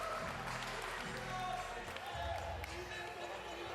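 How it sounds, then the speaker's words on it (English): Raucous crowd applauding at a televised professional women's bowling event, continuous dense clapping and cheering with a commentator talking over it. "And the appreciation from this raucous crowd."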